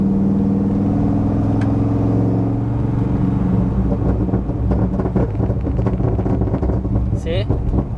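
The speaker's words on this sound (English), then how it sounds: "Like once you let go the throttle though, you're gonna get those pops." A Corvette with headers and an X-pipe rumbles loudly at close range, its deep exhaust note breaking into a run of crackling pops as the throttle is released, with someone talking over it.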